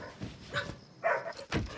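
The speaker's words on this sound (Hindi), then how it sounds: "क्यों भौंक रहा है?" A pet dog at home at night gives a few close, sharp barks and yips in quick succession, loud against a quiet room.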